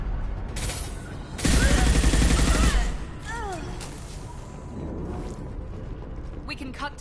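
Impact Shot gunfire from Mass Effect 2 goes off as a loud burst of crackling shots, then mechanical clanks, whooshing effects and scattered combat noise, with a voice talking in the background.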